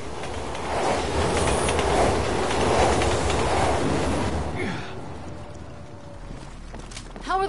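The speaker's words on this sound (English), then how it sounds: "How are the trains still running?" A video game train runs with a loud, continuous rumbling roar and rhythmic rail clatter, easing slightly before a short metallic screech near the end, with no talking.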